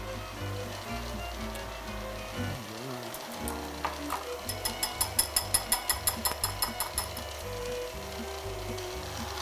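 A stand mixer fitted with a dough hook runs on low speed, giving a steady mechanical hum, with a short run of quick, regular clicking ticks in the middle. The mixer is heard alone, with no talking.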